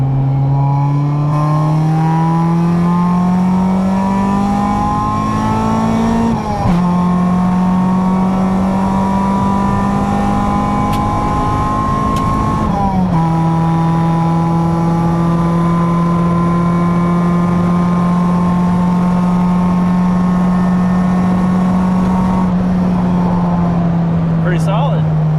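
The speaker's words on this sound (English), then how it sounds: "So we can do a little third gear pull and see what it does." Honda Civic EG hatchback with a B18C1 engine pulling hard in third gear, its loud, rising engine note climbing steadily with brief dips at shifts, heard from inside the car.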